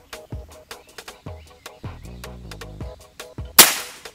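A series of sharp, snappy air gun shots fired one after another at an uneven pace, with a louder, brighter crack near the end; no talking.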